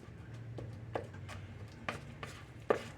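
A tuna patty mixture being worked together with saltine crackers by hand, giving soft, quiet squishing and scattered little dabs and taps at close range with no one speaking.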